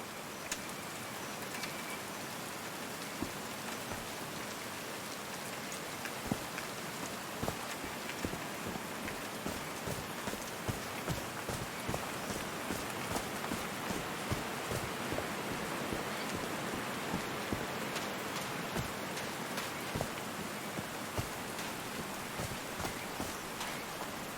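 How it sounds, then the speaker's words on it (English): Rain falls steadily in the video game Call of the Sea, a dense, even hiss scattered with sharp drop taps throughout. "These drops of rain are so refreshing."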